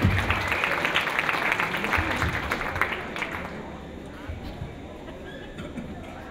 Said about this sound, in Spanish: Un caluroso aplauso